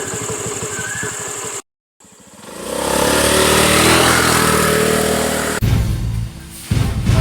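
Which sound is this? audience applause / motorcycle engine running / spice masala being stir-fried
motorcycle engine running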